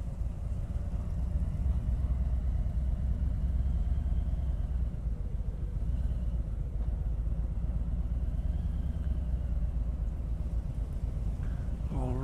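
A 2019 Harley-Davidson Street Glide 107 rides along in first gear, its engine a steady, deep, loping rumble throughout at moderate level, with no talking.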